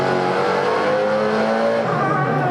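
An engine revs hard at a town fire drill competition, a loud sustained roar with shifting pitch that fills the moment without any voices.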